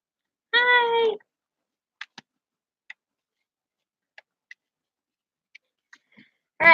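Indoors, a cat gives one clear meow, then there is near silence broken only by a few faint ticks and taps, and a second meow begins right at the end.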